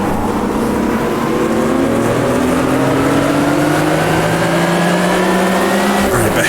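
Race cars revving in Automobilista 2, a 60-car AI field in a simulated racing game: loud, continuous engine drone with several rising whines overlapping as cars accelerate together, sustained with no voices.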